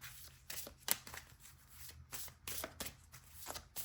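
Tarot cards are shuffled by hand in quick, soft riffling bursts of papery flutter and tapping, close and quiet, with no talking.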